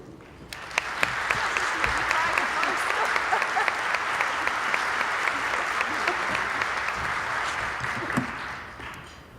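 A large audience at a Peyton Walker Foundation event breaks into sustained applause for a speaker about to take the stage. The clapping is dense and steady for about nine seconds, with a few sharp claps standing out, before it tapers off.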